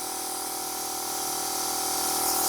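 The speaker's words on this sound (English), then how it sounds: "this whole water line gets pressurized" A pump pressurizes the water line in a Sprinter van, a steady close hiss and hum that swells slightly over a couple of seconds, with no talk.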